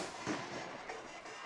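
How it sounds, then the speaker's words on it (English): Fireworks bursting at a high school football game on senior night in Chester, a series of muffled pops and booms carried over a steady crowd and stadium wash, none standing far above the background noise. "Fireworks are going off in Chester."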